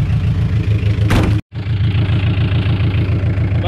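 A Suzuki Samurai engine with no exhaust line, only a straight pipe, idles loud and close with a steady, throbbing low rumble that cuts out sharply for a moment before resuming.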